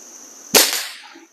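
A single sharp Diana 250 air rifle shot fired outdoors on a calm day, a sudden crack with a short fading tail, heard close and alone against quiet background hiss.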